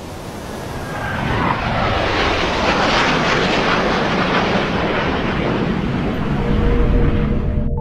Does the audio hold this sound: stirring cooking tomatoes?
no